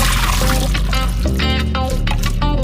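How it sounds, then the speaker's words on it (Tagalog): Water pours and splashes loudly and continuously as Thai rice noodles are drained, with a bright, close, gurgling rush throughout. "Let's drain the Thai rice noodles."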